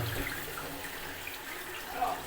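Water gushes from an opened Y strainer on an air-conditioning line, a steady close hiss of running liquid that holds for the whole short moment.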